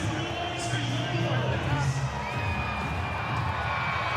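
A stadium crowd at an NRL rugby league match between Manly-Warringah Sea Eagles and Gold Coast Titans cheers and roars in a sustained wash of noise, with scattered shouts and whistles while a commentator talks over it.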